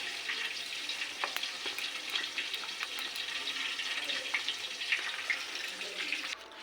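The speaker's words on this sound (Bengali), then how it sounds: "মাছগুলো কড়া করে ভেজে নিচ্ছি" Boal fish pieces frying crisp in a pan of oil, a continuous close sizzle with scattered sharp pops and crackles, fairly quiet overall.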